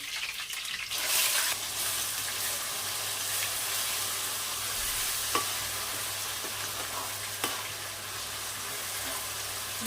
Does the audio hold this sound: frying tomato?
yes